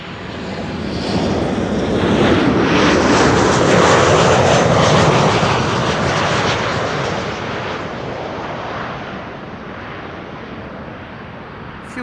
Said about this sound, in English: KLM flight 1164 arriving from Bergen.